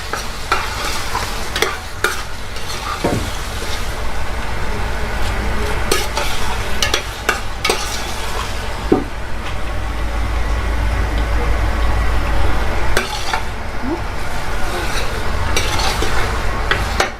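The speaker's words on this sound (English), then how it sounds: "You have to mix them very well like this" Eggplant and onions get stirred in a frying pan, a loud, close, continuous sizzle over a low hum, with frequent spatula scrapes and clicks against the pan throughout and no one speaking.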